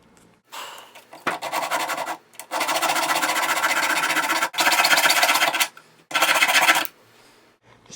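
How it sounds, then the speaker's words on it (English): A metal key for an antique chest being filed down and rounded, loud close rasping strokes in long sustained runs broken by short pauses, no talking. "Just gonna trim down the top of the key and round it out a little bit."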